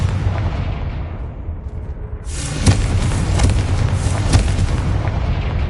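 The Confringo spell fires in the Hogwarts Legacy video game as a sudden explosive burst that fades into a sustained rumbling roar with heavy low booms, loud and alone without speech.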